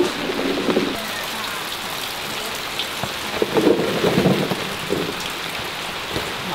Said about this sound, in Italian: ci piove. Ci piove dentro.